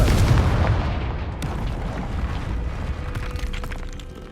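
A Confringo spell explosion in the video game Hogwarts Legacy, a loud booming blast at the start that fades into a long rumbling decay with some crackling debris.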